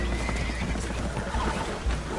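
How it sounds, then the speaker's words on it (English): Spooked horses neigh and whinny aboard a damaged boat taking on water in Red Dead Redemption 2, loud, close and agitated over a dense rumbling background with splashing and commotion. "Horses are spooked, and we're taking on water."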